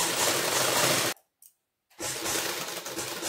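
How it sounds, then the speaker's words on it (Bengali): A sewing machine stitches along fabric while a back-neck zip is attached to a kurti frock. A steady, close mechanical whir cuts out for under a second, gives a brief blip, then resumes. "আবার এই 2 সুত বরাবর আমি সেলাই করব"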